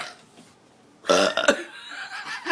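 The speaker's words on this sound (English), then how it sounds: "do not get in a Belch contest with your best friend" A loud, drawn-out belch from a person in a belching contest, starting after a quiet pause and rolling on in a couple of guttural bursts, alone without talk.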